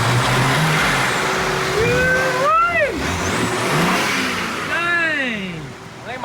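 A wrecked 2023 BMW M3 under rebuild revs its engine in a few quick bursts, each rising and falling in pitch, heard up close over a steady idle.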